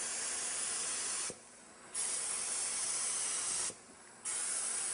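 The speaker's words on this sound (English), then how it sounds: "Now I'm going to switch from the conventional gun to this compressor-based HVLP." Compressor-driven HVLP spray gun laying down a finish, a steady close hiss in two long bursts separated by brief pauses, alone with no talk.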